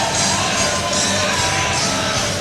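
A crowd at an ice hockey game, Newcastle Northstars at Melbourne Ice, cheers and yells after a goal, a loud, sustained roar of whoops and shouts filling the arena.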